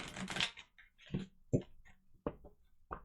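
A deck of tarot cards shuffled by hand, giving a run of short, irregular papery bursts and taps separated by brief pauses, close and quiet with no voices.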